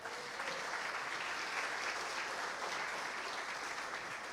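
A church congregation applauds steadily during a sermon about Jesus, a dense, even wash of many hands clapping with no one speaking over it.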